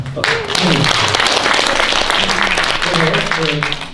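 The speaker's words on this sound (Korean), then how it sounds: "한번 뜨거운 박수를 한번." Warm applause at the founding ceremony of the South Chungcheong branch of the Korea Therapeutic Agriculture Association, clapping sustained throughout, with voices talking over it.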